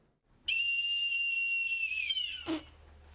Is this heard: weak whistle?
yes